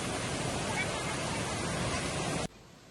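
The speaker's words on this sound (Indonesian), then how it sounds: "menikmati kesejukan dan jernihnya aliran air Sungai Loloan yang membentuk kolam-kolam kecil di sepanjang aliran sungai" The Loloan River flows near the Tibu Lesung waterfall in Yeh Poh village, Bali, as a steady, loud rushing hiss of water that cuts off abruptly near the end.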